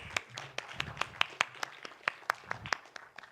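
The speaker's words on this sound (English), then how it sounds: "Round of applause for the volunteers" A small conference audience claps for volunteers called on stage during a keynote, giving a short burst of scattered, sharp individual claps at a quick uneven pace, fairly close and without talk.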